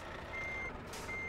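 Truck reversing alarm in a truck driving video game, steady electronic beeps sounding twice, fairly quiet, with a soft engine bed and a brief airy hiss in between.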